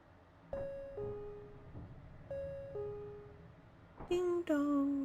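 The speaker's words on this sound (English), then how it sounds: "Ding dong." An electronic ding-dong chime in a video game sounds twice as a pair of falling tones, followed by a brighter, louder chime near the end, against a quiet hum.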